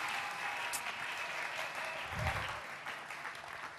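An audience applauding in honour of women at a church sermon, a steady bed of clapping from a crowd at moderate distance, continuing without pause.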